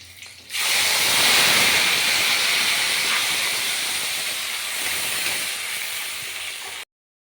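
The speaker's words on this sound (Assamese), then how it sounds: "তাৰপিছত ইয়াতে মই পিঁয়াজ আৰু বিলাহী পেষ্ট কৰি ৰাখিছিলোঁ, এইখিনি ইয়াতে দি দিম।" Onion and tomato paste hits hot oil for a matar paneer and bursts into a loud, sustained sizzling hiss that holds steady for several seconds before cutting off abruptly.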